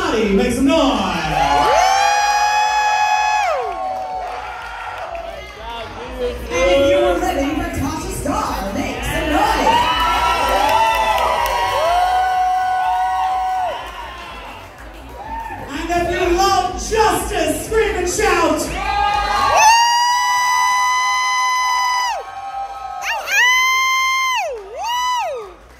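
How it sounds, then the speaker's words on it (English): A live show crowd cheers, whoops and yells loudly in waves, with high shouts and screams piling up and an announcer's amplified voice breaking in between bursts. "If you are moaning for Monica Monet, make some noise"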